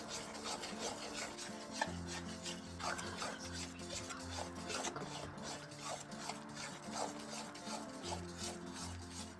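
Gram flour mixture for Mysore pak stirred without pause in oil, a faint steady rubbing and scraping with a rhythmic rasp, quiet and close.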